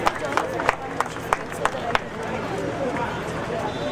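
Crowd clapping at a protest against violence against women on Valentine's Day, a loose scatter of sharp claps under steady crowd murmur that fades after a couple of seconds.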